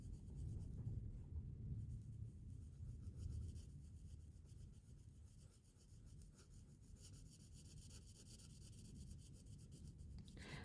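Markers scratching and gliding over paper during coloring, a soft continuous rubbing with faint strokes, quiet and close, no voices.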